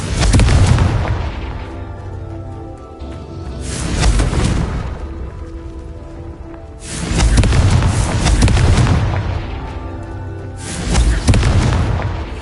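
Repeated heavy magical blasting-spell explosions, several deep booming bursts in sequence, each swelling loudly and decaying with rumbling tails, with no talk over them.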